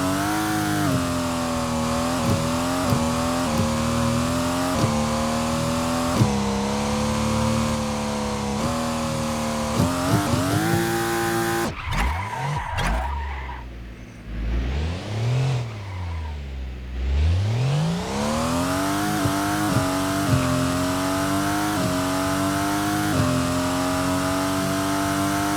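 A 2026-style F1 car built in the game Stormworks lapping a GP circuit, its high-pitched engine rising and falling through gear changes, with a sharp drop and deep rev sweep midway before climbing steadily again.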